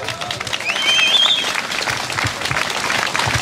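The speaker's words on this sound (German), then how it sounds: "Einen riesen Applaus." Applause from an audience at a demonstration for peace and social justice, a dense burst of outdoor clapping that swells and holds for a few seconds, with a whistle cutting through early on.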